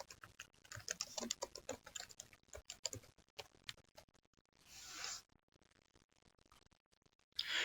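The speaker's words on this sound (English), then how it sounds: "we'll take this opportunity to type it in ourselves." Typing on a computer keyboard while filling in a form: quick irregular runs of clicking keystrokes, close and fairly quiet, broken by pauses and a couple of short whooshing noises.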